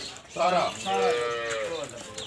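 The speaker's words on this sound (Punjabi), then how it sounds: "ਇਹ ਨੰਬਰ 3 ਜੀ ਇਹ ਵੀ ਫਰੀਜ਼ੀਅਨ ਵੈਰੀ ਹੈ" A pure Friesian dairy cow at a farm sale gives a close, loud, drawn-out moo in two swells over a couple of seconds, with no talk over it.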